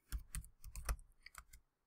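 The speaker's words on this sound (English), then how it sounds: "Typing" Fingers type a short burst on a computer keyboard, a quick run of close, crisp key clicks with brief pauses, heard alone.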